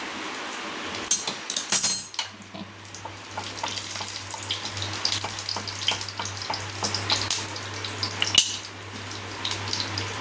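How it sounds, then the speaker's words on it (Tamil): Cumin seeds and curry leaves crackle in hot oil for a green chicken curry, a bright continuous sizzle with a burst of spatter as the leaves go in, close and steady with a low hum beneath. "நம்ம 2 ஜீரகம் போட்டுக்கலாம். ஜீரகம் பொரியட்டும்."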